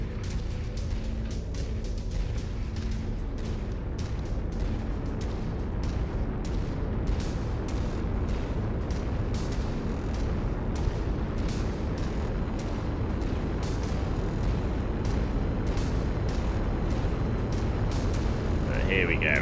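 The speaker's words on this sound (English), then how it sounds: "Trying to get caught in the reactor explosion." A mech reactor explosion in MechWarrior 5 Mercenaries rumbles as a sustained, dense roar of booms and crackling debris throughout, with someone talking over it.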